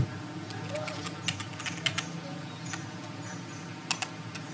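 Typing on a computer keyboard while logging into a lab terminal, with scattered quick keystrokes in short irregular bursts, fairly close and quiet.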